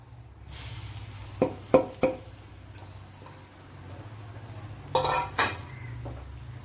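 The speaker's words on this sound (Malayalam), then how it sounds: "ഇവിടെ 1 ടീസ്പൂൺ വെളിച്ചെണ്ണ ഒഴിച്ചു കൊടുത്തിട്ടുണ്ട്. ഇനി അതിലേക്ക് തേങ്ങ ഇട്ട് കൊടുക്കുക." Crushed coconut tipped into a spoonful of hot coconut oil in a pan, with a few quick clattering spoon scrapes and taps against the pan over a low steady hum, then another short pair of clinks.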